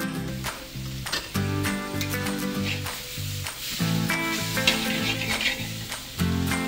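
Food sears in a hot pan with a steady sizzle, partly masked by rhythmic background music with a pulsing beat.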